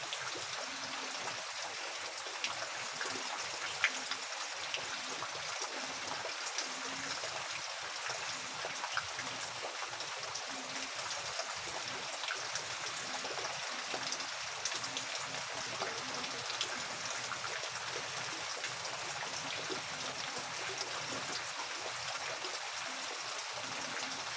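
Steady rain and trickling water in a garden where bitter gourd (ampalaya) vines grow, a continuous broadband wash with faint drips throughout, no voices.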